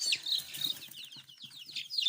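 Newly hatched Marans chicks peep in quick, high, bright chirps, close and fairly faint, with soft rustling and low background sounds beneath.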